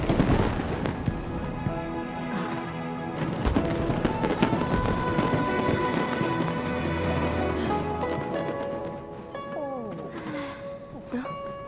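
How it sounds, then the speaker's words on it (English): Fireworks pop and crackle amid game music and effects in Genshin Impact's Lantern Rite, with bursts scattered throughout and people talking over them. "a firework that looks just like a pig!"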